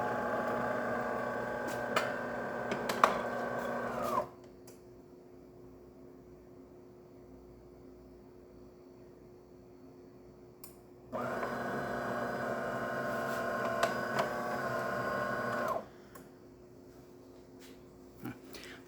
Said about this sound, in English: now let's do a longer coffee